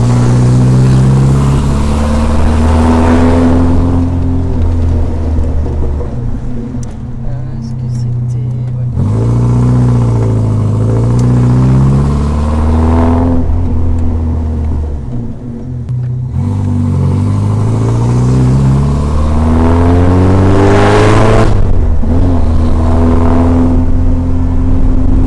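A Morgan 4/4 sports car accelerates repeatedly, its engine revving up through the gears in rising sweeps with gear-change dips, loud and near from inside the cabin, with people talking over it.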